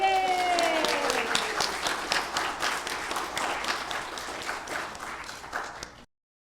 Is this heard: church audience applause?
yes